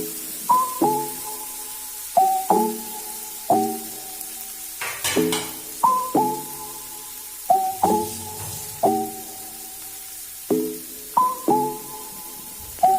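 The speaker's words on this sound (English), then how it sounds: "Add some ginger and garlic paste with it. Keep stirring it." Ginger and garlic paste is stirred in a hot pan, a utensil scraping the metal in regular strokes with squeaky tonal rubs repeating about every second, close and steady with no voices.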